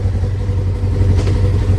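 A car engine runs at a steady, loud low rumble while the gas pedal is pressed, holding a fairly constant drone with little audible rise in pitch.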